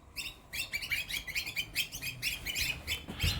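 Small birds chirp busily in a tree of ivy, a rapid stream of bright overlapping tweets close by over faint background hum.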